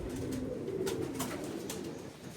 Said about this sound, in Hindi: डब वाले कबूतर